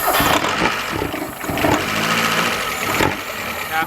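A Mazda Capri engine cranks in rough, stuttering bursts, catches briefly and falters, then cranks again, loud and close with no talking.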